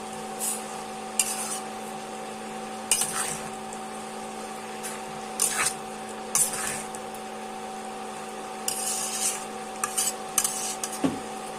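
Sugar is stirred into cabbage in a pan while making Bengali bandhakopir ghonto: scattered spoon scrapes and light clinks come at irregular intervals over a steady low kitchen hum.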